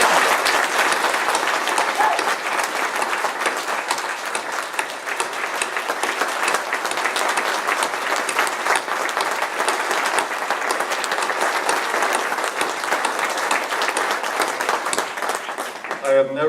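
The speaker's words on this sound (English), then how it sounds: "Will you please join me in applause for the staff of volunteers" A conference audience in Detroit breaks into sustained applause, dense and continuous clapping from a large crowd that fills the room at an even level for over fifteen seconds before tapering at the end.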